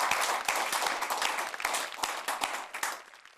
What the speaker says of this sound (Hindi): जरा जोरदार तालियों से स्वागत करें